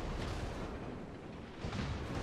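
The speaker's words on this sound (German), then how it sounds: "jetzt gehen die Schüsse raus Richtung York von der Sekundären" Secondary guns of the German battleship Scharnhorst firing in the naval game World of Warships, a dense, rumbling barrage of low booms that swells again near the end, fairly faint with no talk.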